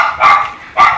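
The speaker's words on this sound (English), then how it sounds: "There goes the pup." A puppy barks twice on a flooded street, two short, loud, close yaps about half a second apart with quiet in between.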